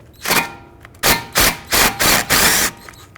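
A hammer strikes a steering knuckle part on a 2010-2017 Chevrolet Equinox: one blow, a pause, then four quick sharp metallic bangs in a row, loud and close.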